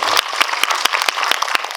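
Audience applause in a cinema hall after a film screening talk, sharp claps spaced across under two seconds, close and fairly loud with no speech.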